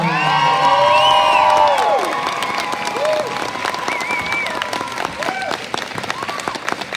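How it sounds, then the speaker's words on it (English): A school audience applauds and cheers for the music director, with whoops and children's shouts rising over steady clapping at first, then settling into continued applause mixed with scattered voices. "And a huge round of applause for your music director, Miss Austin."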